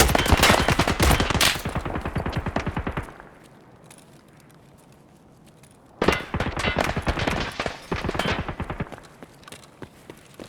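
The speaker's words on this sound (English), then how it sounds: "Is that the machine gun? I think that's the machine gun." Machine gun fire in Escape from Tarkov: two long, rapid bursts of loud, sharp shots, the first running about three seconds, then a quiet gap before a second, more broken stretch of firing.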